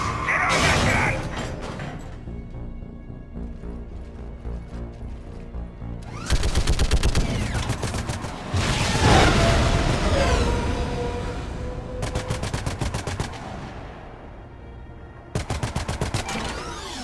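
Mass Effect 3 combat gunfire comes in loud, close bursts of rapid automatic shots, separated by stretches of rumbling, mechanical battle noise.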